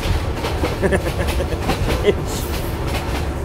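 A rail carriage clatters and rumbles during a train ride, with rhythmic clickety-clack from the wheels over the track. Faint voices mix into the steady, fairly loud rolling noise.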